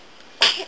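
A single sharp sneeze bursts out close by after a moment of near silence, then trails off quickly.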